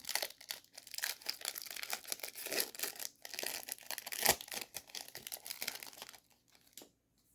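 A foil wrapper on a Skybox Malibu Comics Ultraverse Series II trading card pack crinkles and tears open close up in a long run of crackly rustling that ends in quiet, with no voices.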